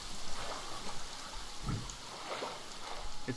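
Rainfall in the survival game The Forest, a loud, rushing wash of drops with a low rumbling swell partway through, like distant thunder. It runs continuously with no talking.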